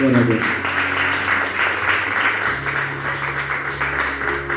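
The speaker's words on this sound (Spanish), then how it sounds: "Una ofrenda de palmas para el que vive." Clapping from a congregation at a Christian Sunday worship service, offered as praise, fills the clip with steady applause while a voice speaks over it and low sustained tones hum underneath.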